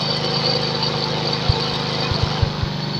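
A motorcycle engine with a CDI-DC ignition runs steadily, a continuous mid-low drone with a few brief low thumps near the end, close and moderately loud with no talk.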